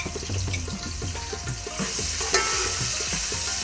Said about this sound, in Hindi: अब जनाब मैंने इसमें ये लहसुन अदरक की पेस्ट तकरीबन 1 चम्मच के करीब है, वो मैंने वो डाल दिया इसमें।